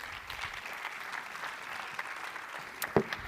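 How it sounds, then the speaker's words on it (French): Audience applause at a round-table conference on the Saint-Tropez gulf, a steady, fairly faint patter of many hands clapping throughout, heard from a distance. "qu'on peut applaudir"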